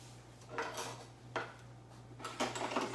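Metal kitchen tongs are picked up and handled beside a steak cooking in avocado oil, giving three brief, soft metallic clinks and rattles over a quiet, steady background hum.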